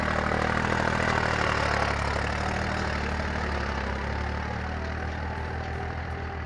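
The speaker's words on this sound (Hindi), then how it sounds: "आदिल ट्रैक्टर चला रहा है और सामने आ रहा है तो मैं आपको दिखा रहा हूँ खेत जोत रहा है।" A tractor plowing a farm field, its engine running with a steady loud diesel drone and throb, slightly easing off over time, with no talk.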